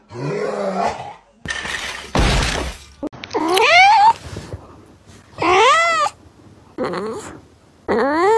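A house cat lets out a series of loud, drawn-out, angry meows and yowls in separate bursts, with a short crash or rustle near the start.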